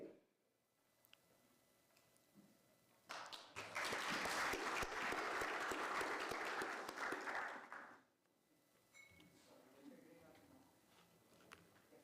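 Audience applause for a panel moderator at a conference session, a dense burst of clapping that swells for about five seconds then fades, with a voice over a microphone before and after.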